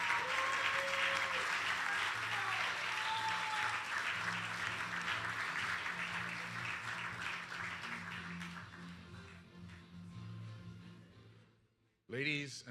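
An audience at a fraternity honours day convocation gives loud, sustained applause that gradually fades over several seconds, followed by a brief voice at the end.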